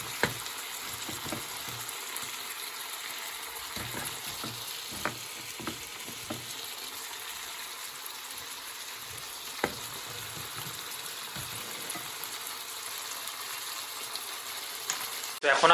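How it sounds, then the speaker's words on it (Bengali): Venison meat frying in a pan as ginger and garlic go in, a continuous close sizzle with scattered clinks and scraping of stirring throughout. "মাংসটা একটু ভাজার পরে এখন আমি দিব আদা রসুন"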